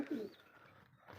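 A pigeon gives a soft, low coo at close range, one short call with faint rustling after it, in a quiet indoor pigeon coop.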